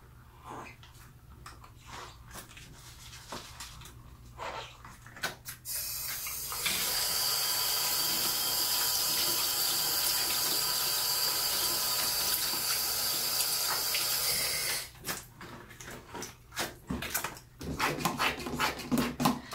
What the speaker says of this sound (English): I think I'll wash this one twice because there's just so much product in it